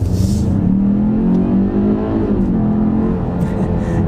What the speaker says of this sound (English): Another acceleration.